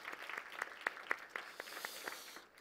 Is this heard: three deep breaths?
no